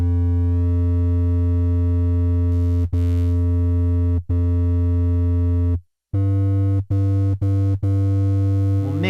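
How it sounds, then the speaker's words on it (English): A synthesizer sine-wave oscillator played a couple of octaves low for a deep 808 bass gives a steady, pure, sustained low tone with a few sharp breaks and retriggers, heard alone. "I'm gonna make one of our oscillators a sine wave."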